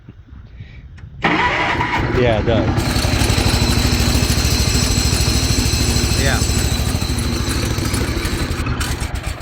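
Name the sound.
engine starting and idling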